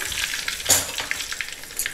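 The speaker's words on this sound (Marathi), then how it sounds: "आणि ही फोडणी वरती आपण टाकतोय." Mustard seeds, asafoetida and curry leaves crackle in hot oil as the tempering is poured over a Goan vegetable stew, giving a sharp sizzling burst followed by a softer, steady frying hiss.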